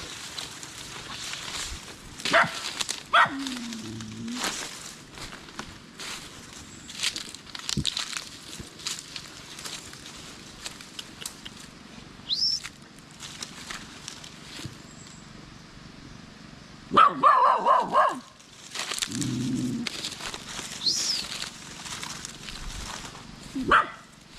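A dog, a mother with four pups, barks in short scattered bursts at a moderate distance, with a few sharper yips breaking through ongoing outdoor background noise.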